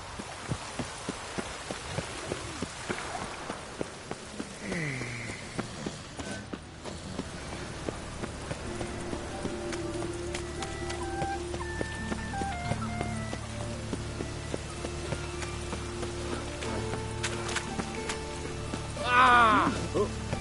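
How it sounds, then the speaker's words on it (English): Rain falls steadily in The Witcher 3, with soft horse hooves clopping along under it, plus game music tones and a brief sharp sound near the end; a voice speaks over it. "Looked like it would rain, and here it is."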